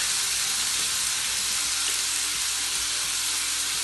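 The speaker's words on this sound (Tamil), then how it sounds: "இதை போட்டு இதை கொஞ்சம் நல்லா வதங்க விடுவோம் நல்லா இந்த நெய்யிலேயே நல்லா வதங்கட்டும்" Onions sautéing in ghee in a pan, a broad, even sizzling hiss that holds steady from start to finish, close-up, moderately loud and free of speech.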